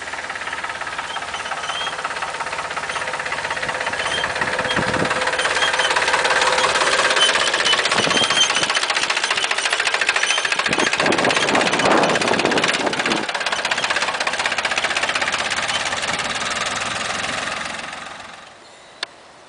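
Tractor engine running steadily during haying, a continuous mid-range mechanical drone with rhythmic knocking that holds for most of the span before cutting off near the end.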